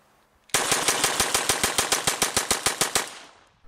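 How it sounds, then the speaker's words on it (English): A Taurus TX22 .22 pistol fires about fifteen sharp shots in a fast, even string as the magazine is emptied, loud and close, then the firing stops. "I have tons of clips of me trying to shoot slow for a few rounds, then just dumping the rest of the mag"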